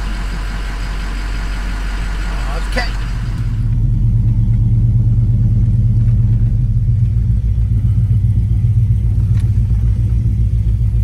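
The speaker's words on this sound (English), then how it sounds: "Let the truck run for a while, battery charge up." A 2006 Ford F-550 truck engine idles with a steady low rumble nearby, growing slightly louder after a few seconds, with a brief spoken word early on.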